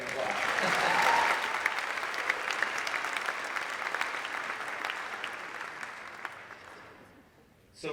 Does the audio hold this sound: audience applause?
yes